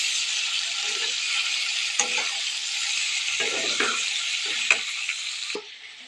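Chicken sizzling and frying in a pan during village-style cooking, a steady close hiss with the occasional stir and scrape of a utensil, and no voices.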